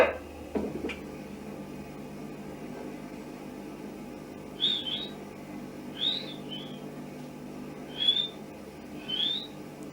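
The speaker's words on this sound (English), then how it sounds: "You'll hear here the whistling first of all, and then the barking" Four short, rising whistles on a recording from the Enfield Poltergeist case sound at intervals over a faint steady hum, thin and somewhat distant, with a soft thump near the start.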